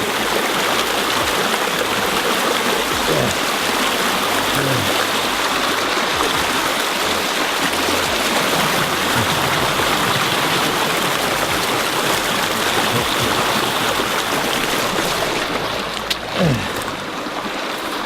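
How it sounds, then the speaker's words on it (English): A mountain stream in the White Mountain Wilderness of New Mexico rushes loudly and steadily while a hiker crosses it, with faint splashes and thuds near the end. "Another stream to cross, this time in first person."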